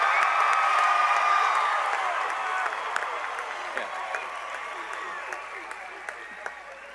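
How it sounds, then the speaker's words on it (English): Large crowd applauding and cheering for a graduating high school class at a 2019 commencement ceremony, a dense sustained wash of clapping with scattered whoops that slowly tapers over several seconds. "I ask that you give a big round of applause for hashtag the"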